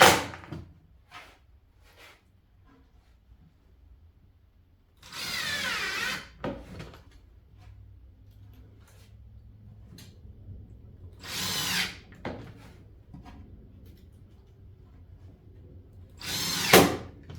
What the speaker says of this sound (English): I'm just gonna fasten one side now, and I'm just using 1/2 inch screws so I don't go through the 3/4 inch material